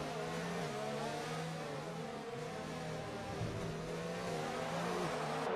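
Formula 1 racing cars in F1 2019 at Abu Dhabi whine steadily at high revs, a continuous engine drone with shifting pitch as several cars run close together, with no talking.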